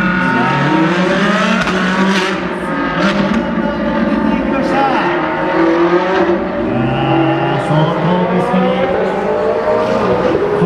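Racing cars driven by Jean Alesi and his son roar past on Suzuka's East course, a loud continuous engine whine with rising and falling pitch under an excited commentator speaking Japanese.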